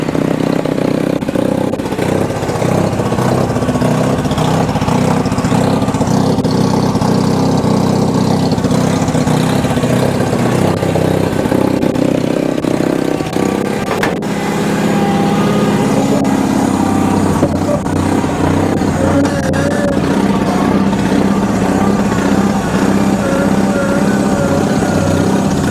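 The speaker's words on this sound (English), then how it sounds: "She runs good. We got quite a lot of gear noise." A Bolens HT20 large frame garden tractor engine running steadily and close for a long stretch, with a constant mechanical drone and heavy gear whine, rising and shifting in pitch as it drives.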